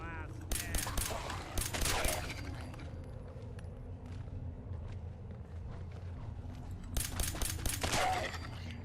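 Incendiary pistol fire in Fallout 4 comes in two clusters of sharp rapid shots, one early and one near the end, over a steady low background rumble.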